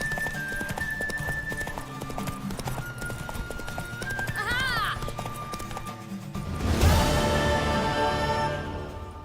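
Horse hooves clatter in a fast gallop during a race in The Witcher 3, with a neigh partway through, under game music and sound effects that swell near the end.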